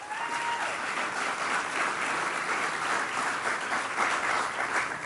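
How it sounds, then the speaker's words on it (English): Steady, dense applause from a large audience at a graduation ceremony, sustained at an even level throughout without a break. "Let's give them a round of applause."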